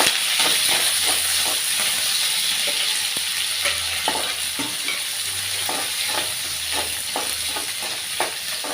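Chopped onions and green chilies fry in a pan for a tomato kuzhambu, a steady sizzle and hiss broken by the frequent scrape and clatter of stirring.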